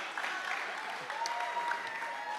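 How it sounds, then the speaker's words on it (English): Audience at an IDEA World award ceremony applauds the standing Jack LaLanne Award alumni, a soft, steady patter of clapping from a crowd at a distance. "Yes, stand, round of applause for these individuals."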